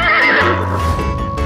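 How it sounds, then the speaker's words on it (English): A horse neighs loudly and close, one long whinny with a wavering, descending pitch that fades into a lower rumble, heard alone without talk as part of a run of animal sounds. "horse,"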